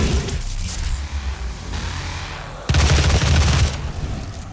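Gunfire and explosions from the Doom video game, a continuous rattle of shots with a louder, denser burst of blasts partway through before it eases off.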